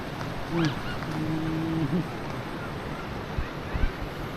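Steady rushing of floodwater during heavy flooding at Ban That Nang Lao, with a broad watery wash throughout, a voice briefly audible near the start and a few splashy knocks toward the end.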